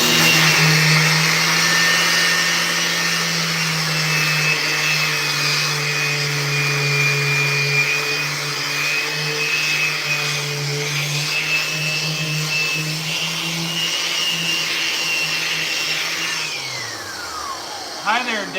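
An orbital sander hooked to a Festool vacuum works over a skateboard deck, a loud sustained whine and hum with a steady low drone, winding down near the end.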